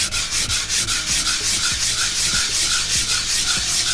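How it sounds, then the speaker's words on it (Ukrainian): 120-grit sandpaper glued to a block rubs on wood in quick, regular back-and-forth strokes, a close, scratchy rasping rhythm with no voices. "наклеюю за допомогою контактного клею шліфувальну шкурку 120 і на ній шліфую"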